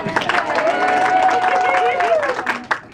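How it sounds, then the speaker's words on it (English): Applause and clapping from an audience at a book launch party, dense and steady for a few seconds, with crowd chatter and a voice running over it before it thins near the end. "give a big round of applause"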